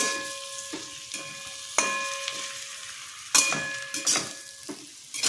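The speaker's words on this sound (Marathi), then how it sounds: "आणि व्यवस्थित सगळं मिक्स करून घ्यायचं।" Potato slices tossed with coriander in a pan: repeated scraping and clinking stir strokes over a steady sizzle, in irregular bursts, close and moderately loud.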